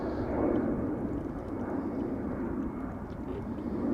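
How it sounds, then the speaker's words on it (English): An Embraer E2 jet at Amsterdam Schiphol gives off a steady low engine rumble and rushing roar, continuous and moderately loud, without talking. "We have another E2 Embraer coming this way, which will be leaving for Dublin shortly."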